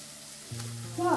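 Sliced onions with a little salt frying in a pan for tomato rice, giving a soft, steady sizzle with a low hum that swells near the end as they are stirred.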